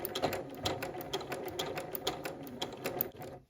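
Sewing machine back stitching around an appliqué heart with interfacing, a close, steady run of rapid rhythmic needle thumps for a few seconds before stopping abruptly.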